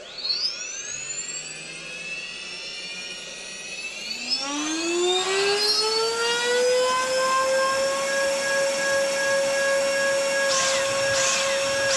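High-speed flywheel of a Battle Pack Gun spinning up, a rising whine that climbs in pitch and settles into a steady, loud tonal hum with harmonics and faint hiss.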